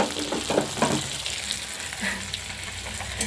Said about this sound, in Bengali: এখানে তেলটাও ভাজা হচ্ছে